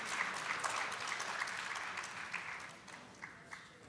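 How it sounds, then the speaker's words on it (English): An audience at an International Women's Day dialogue claps in a moderate, fairly distant round of applause that gradually thins out over a few seconds. "Another round of applause for Madam Peggy."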